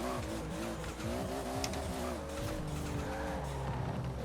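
A car in the Forza Horizon 4 racing game drives and skids with almost no grip, its engine droning steadily under continuous tire squeal, loud and close throughout without any talk.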